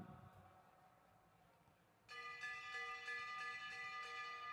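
A handheld bell clangs for the bell lap of a bike race, starting abruptly and ringing on continuously with a bright metallic ring and sustained overtones, after a quieter stretch of faint crowd murmur.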